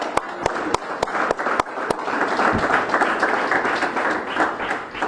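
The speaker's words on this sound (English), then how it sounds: "So if everybody clap it up for Kyler" At a Mercer football press conference, a few sharp individual claps quickly swell into sustained, thick applause from the gathered crowd for a newly signed player.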